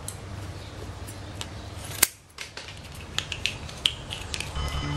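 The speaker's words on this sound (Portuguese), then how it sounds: "Aí com a tesoura vocês vão recortar" Scissors snip through a toothpaste tube in a homemade gasoline lighter build, giving one sharp crunching cut followed by a few lighter clicks, close up over a steady background hiss.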